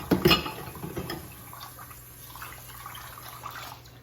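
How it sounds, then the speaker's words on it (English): Tap water runs into a kitchen sink during dishwashing, with a few clinks and splashes early on, then a steady soft flow continuing throughout, no talking. "I love doing the dishes."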